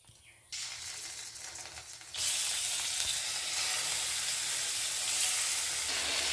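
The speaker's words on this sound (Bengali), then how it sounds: "আমরা তেল দিয়ে মাছটা ভাজছি।" Snakehead fish frying in a little oil in a kadai, the sizzle jumping to a loud, steady hiss after a quieter start and holding close and continuous.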